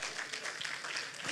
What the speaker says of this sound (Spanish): Dele ese aplauso fuerte al Señor.